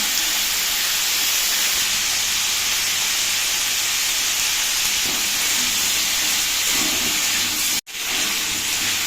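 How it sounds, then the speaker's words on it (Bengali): Potatoes fry lightly in a pan with Kashmiri chilli, giving a continuous bright hiss and sizzle that stays level, broken only by a brief cut near the end. "বেশ কিছুক্ষণ সময় নিয়ে আলুগুলো হালকা করে ভেজে নেব।"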